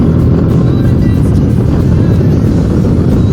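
Bajaj Dominar 400 motorcycle cruising on a highway bypass between Kanyakumari and Tirunelveli, a loud, steady engine drone mixed with heavy wind roar, continuous with no talking.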